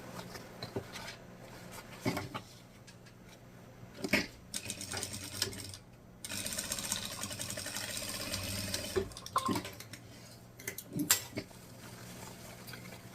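A sewing machine stitches a straight seam to close milk cartons, running in bursts of rapid mechanical whirring separated by pauses, with handling noises of the cartons between runs.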